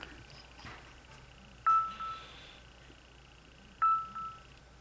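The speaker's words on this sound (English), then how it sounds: "my phone is going off like crazy" A mobile phone sounding notification alerts during a nail-art session, two clear electronic chimes a couple of seconds apart over faint background hiss, with a few softer beeps earlier, no speech.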